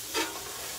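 Cauliflower and bacon seasoned with salt and pepper cook on a Blackstone griddle, giving a steady close hiss with one short scraping stir near the start.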